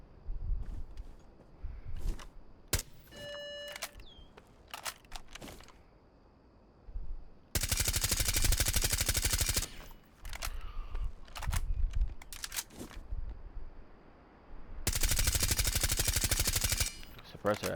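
Suppressed gunfire from a weapon fitted to Thatcher in Rainbow Six Siege comes in two long, dense automatic bursts, with scattered single shots, clicks and mechanical handling noises between them.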